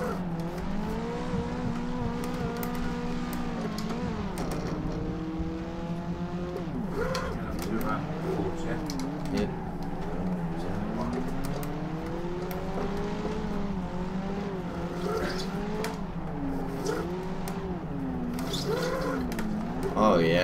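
Engine of a 1996 Nissan 180SX S13 street drift car with a naturally aspirated SR20DE in Assetto Corsa, running on old tyres without a clutch, revving up and down continuously with wavering pitch under a voice talking.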